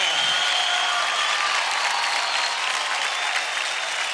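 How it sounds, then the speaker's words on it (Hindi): Loud, sustained applause from a TV dance show studio audience for Paul Marshall, a dense wash of clapping that holds steady for several seconds before easing slightly, with no voices over it. "जोरदार ताली हो जाए पॉल मार्शल के"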